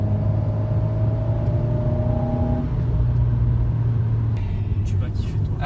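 An Alpine A110 turbo sports car drones steadily from inside the cabin, its engine and exhaust holding a constant low hum that shifts in pitch partway through, with some light rattles near the end.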